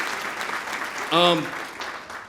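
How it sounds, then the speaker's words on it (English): An audience at a Teacher of the Year ceremony keeps up a soft, steady applause, with one voice rising briefly above the clapping. "Can you give yourselves a round of applause?"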